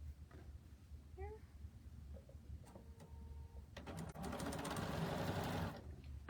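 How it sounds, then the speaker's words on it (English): A sewing machine stitches log cabin quilt strips in a fast, steady whir that starts about four seconds in and runs close and clear for roughly two seconds after quiet room noise and a brief cat-like meow. "I usually sew with a slide table"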